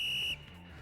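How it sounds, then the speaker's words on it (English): A coach blows a loud, sharp whistle blast in a gym during push-up drills; the single steady shrill tone holds for about a third of a second, then cuts off, leaving quiet room noise. "With a violent loud blow of his whistle"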